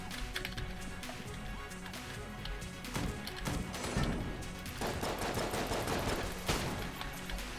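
Heavy gunfire from an oversized boss weapon in the shooter game Enter the Gungeon, with dense, continuous bursts of shots and crashing impacts layered over game music, loud and busy throughout.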